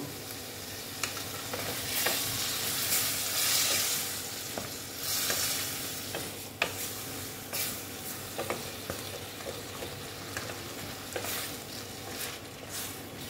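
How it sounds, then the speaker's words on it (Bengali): Potatoes stir-fried in a spice masala for aloo dum, a steady close sizzle in the pan broken by repeated scraping stirs, with no talking. "এখন আমি আলুগুলো দিয়ে দিচ্ছি, দিয়ে একটু ভালো মতন কষিয়ে নেব।"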